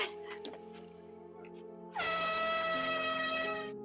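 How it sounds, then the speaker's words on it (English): An air horn blasts loud and sustained from midway, a bright steady tone that cuts in sharply over lower background noise and commotion. "the woman in the family grabs an air horn and blasts it"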